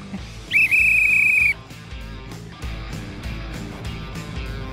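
A single sharp whistle is blown to start a contest and holds for about a second over a low, rhythmic background beat that keeps going after the whistle stops.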